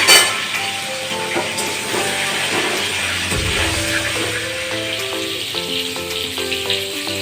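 Pieces of pointed gourd (potol) drop into hot oil in a wok with a sharp initial splash, then fry in a loud, steady, crackling sizzle that fills the clip.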